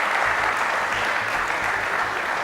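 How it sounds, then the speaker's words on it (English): An audience at a fashion industry talk show claps for a guest, steady continuous applause at even loudness, with a low rhythmic thump pulsing beneath the clapping. "No, you should clap for her."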